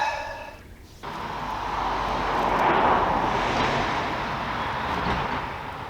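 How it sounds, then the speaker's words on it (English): A jet roars overhead, swelling to a loud broad rush and then slowly fading, with no talk. "a jet flying over"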